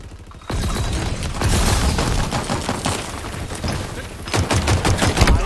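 A fireworks gun fires in the video game Halo Infinite, a loud rapid burst of crackling, popping blasts that rolls on continuously with booming impacts, with no talk over it.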